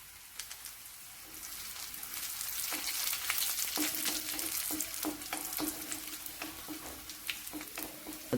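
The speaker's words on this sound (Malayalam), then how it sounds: "ചൂടായ എണ്ണയിലോട്ട് നമുക്ക് കടുകിടാവേ. വറ്റൽമുളക് മുറിച്ചിടാം." Mustard seeds and cut dried red chilies hit hot oil for a pickle, building into a bright steady sizzle with scattered pops and crackles. Light clinks of a spoon against the pan recur throughout, close and fairly quiet.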